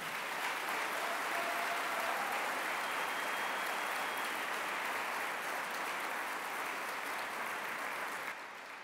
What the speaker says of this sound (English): Please give them a round of applause before we get this started.